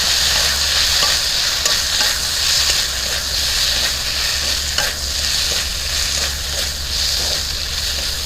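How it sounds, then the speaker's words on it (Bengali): Almond paste stirred into a carrot paneer curry in a hot pan, a loud, steady sizzle with continuous scraping and stirring strokes close up, no voices. "এবার বাদাম বাটাটা দিয়ে দেওয়া হলো, দিয়ে মিক্স করে নেওয়া হচ্ছে"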